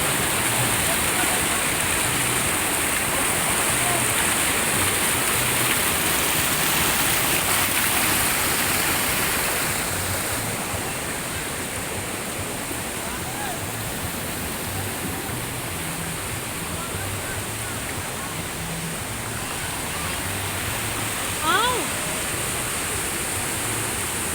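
Rain falls at Tad Lo in southern Laos as a steady, loud wash of hiss that eases slightly midway, with faint voices in the background and a brief knock near the end.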